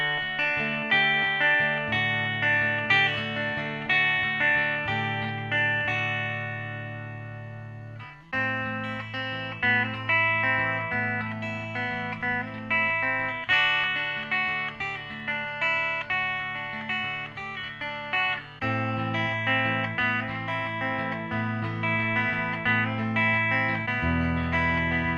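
Electric guitar played on its modded bridge pickup with a clean tone: bright chords and picked notes ring out in a steady strumming pattern with short pauses, close and full, no talk.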